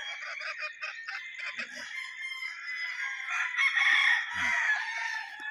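Several roosters crowing at a gamefowl farm near Mt. Banahaw, Quezon, overlapping calls at mid distance that rise in a long chorus, with scattered clucks and a low murmur of voices.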